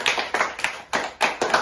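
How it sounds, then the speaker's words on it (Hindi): A crowd claps in applause for the winner of a samosa eating challenge: several bursts of hand clapping, fairly close and lively, rising and falling in short waves with no talking. "इनके लिए एक बार तालियां जोरदार"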